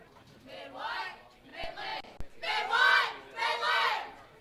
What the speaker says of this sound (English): There's the cheer.